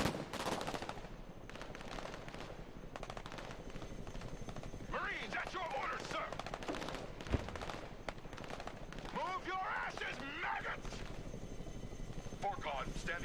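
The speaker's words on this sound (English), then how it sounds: "Not sure what they're shooting at." Gunfire from a modern military real-time strategy battle in Broken Arrow, scattered shots and bursts layered over a steady helicopter rotor drone, with radio-style voices talking throughout.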